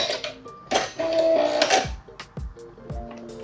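A computerized sewing machine runs its automatic thread cutter, a short burst of whirring mechanical motor noise followed by a few sharp clicks and clunks, close and alone.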